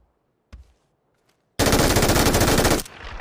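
Automatic gunfire in the PUBG Mobile video game: a single short shot, then a loud, sustained burst of rapid machine-gun fire lasting over a second before cutting off, with no talk.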